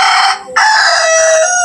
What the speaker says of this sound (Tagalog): Ayan, may manok pa.